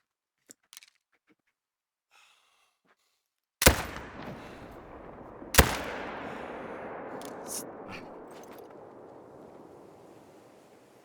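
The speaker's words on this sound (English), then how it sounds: "I'm going to take a shot at both of these with the 306" Two loud 30-06 rifle shots in the hunting game theHunter: Call of the Wild, a couple of seconds apart, each with a sharp crack and a long rolling echo that fades slowly over quiet outdoor ambience.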